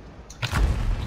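Tank cannon shot in World of Tanks, aimed at an enemy turret and bouncing off its armor: a short muffled crack followed by a deep booming thud that rumbles on, close and solid.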